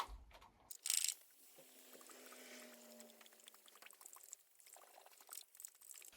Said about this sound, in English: Let's water this.